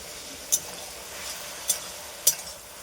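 Ridge gourd and green chili in a hot pan make a faint, low sizzle, broken by three sharp metallic clinks of a spatula spaced about a second apart.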